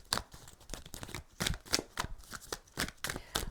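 A deck of oracle cards being shuffled by hand, with crisp riffling bursts repeating roughly every half second, close and clear with no talking.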